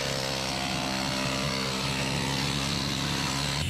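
A pneumatic air blow gun roars continuously and loudly while blasting rust off the frame of a rusty GMT400 Suburban, a harsh, steady hiss close up with no talk.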